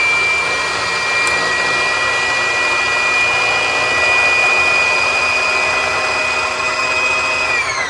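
A sewing machine winding a bobbin runs as a steady, loud, high-pitched mechanical whir, holding constant for the whole stretch with a slight upward pitch drift and no voices.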